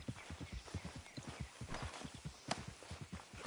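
Steady clip-clop of horse hooves at a walking pace in Red Dead Redemption 2, evenly rhythmic and fairly close, with no voices.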